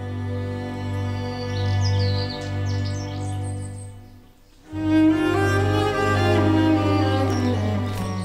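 A common cuckoo calls around a nest in the wild, its bird calls sounding in short bursts over a steady low background drone, with a brief lull before fuller chirping returns.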